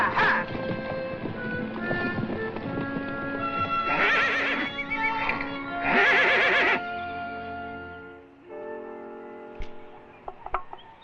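Several horses, a herd of mares and stallions, whinny and neigh in loud repeated calls over hoof clip-clop and shuffling, with two strong whinnies close by midway, before quieter sounds at the end.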